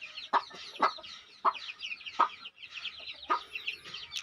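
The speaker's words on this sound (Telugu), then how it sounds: "కోడి పిల్లలు మంచి లైనేజీకి చెందినటువంటి అండి" A mother hen gives repeated low clucks at close range while her young chicks peep in a continuous high chatter around her, with no human voices.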